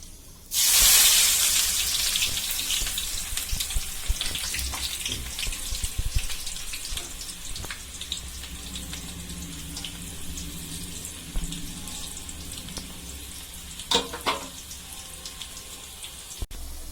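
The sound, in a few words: onions frying in a pan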